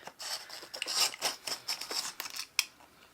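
A knife slices through the tape and cardboard of an Allure beauty subscription box in a series of short, scratchy, rasping strokes up close, ending with a sharp snap.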